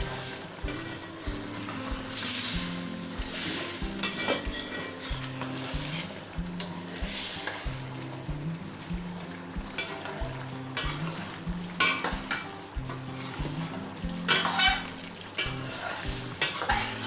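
Oil sizzling and frying in a pan while butt karahi is cooked, with steady crackling and spitting, stirring scrapes and occasional clinks of metal on the pan throughout.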